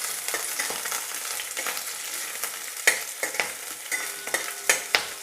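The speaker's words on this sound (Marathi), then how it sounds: "जस्ट 1-2 मिनिटं फक्त परतवायचं आहे" Pieces of idli Manchurian made from leftover idli sizzle and fry in a pan while being stirred and sautéed, with steady crackling frying broken by sharp clicks and scrapes of the spatula, close up.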